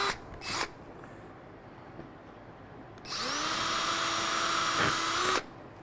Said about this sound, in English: Since we're drilling into carpet,